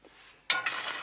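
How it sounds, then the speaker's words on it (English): Coals from a bush campfire are shovelled into a frying pan: a faint scrape, then a sharp gritty clatter and hiss as the embers land, rattling on briefly. "just fill the frying pan up with coals"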